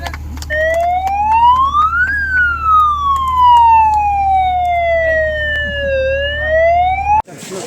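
A loud siren wails in slow rising and falling sweeps over a low engine rumble at a fire station, close by, stopping abruptly at the end.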